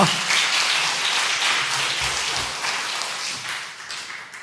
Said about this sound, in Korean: 경례의 박수 해주세요